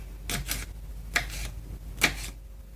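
A knife slices a bell pepper into strips on a cutting board, giving a few sharp, crisp cuts spaced about a second apart, close and fairly quiet.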